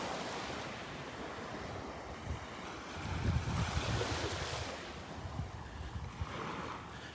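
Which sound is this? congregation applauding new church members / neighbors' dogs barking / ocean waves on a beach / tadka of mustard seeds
ocean waves on a beach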